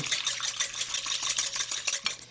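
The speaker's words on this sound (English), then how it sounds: "The wet ingredients start with egg whites and then whisk them to add some volume." Egg whites whisked by hand in a bowl for pumpkin pecan squares: a quick, steady run of light scraping strokes that goes on without pause, close by, with no one talking.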